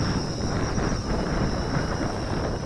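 Steady wind buffets the microphone while an MJX X400 drone flies in roughly 15 mph gusts, a dense low roar broken by a thin, constant high whine.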